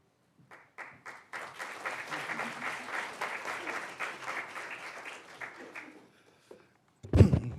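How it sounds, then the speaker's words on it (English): An audience at a Nurses Week 2024 opening ceremony applauds for several seconds, a dense, steady wash of clapping that builds and then fades, followed by a brief thump near the microphone. "I feel kind of bad with y'all applauding me"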